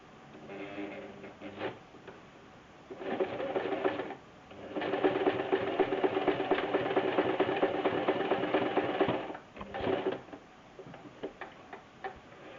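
Sewing machine stitching fabric for a girl's dress runs in bursts: a short run, a longer steady whirring stretch of rapid needle ticks, then brief stops and restarts, close with no talking.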